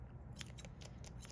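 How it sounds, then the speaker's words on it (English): Grooming shears snip a poodle mix's coat at close range, five quick crisp cuts in an even rhythm over a faint background hum. "When I'm doing the bottom, or like kind of this bottom edge, I like to hold my shear at like a 45-degree angle."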